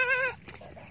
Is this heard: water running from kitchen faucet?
no